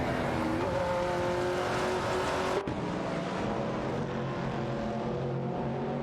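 Race cars in an AI-driven racing video game, among them a Holden Torana A9X and a 1970 Chevrolet Camaro, roar together in a steady, loud engine drone, with one car's rising whine cutting off abruptly midway.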